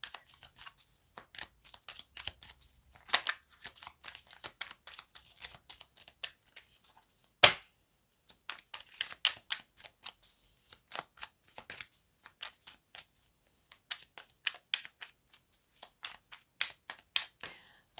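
A tarot deck is shuffled by hand in quick irregular bursts of crisp riffling and card slaps, close and dry, with brief pauses between runs and one sharp snap partway through.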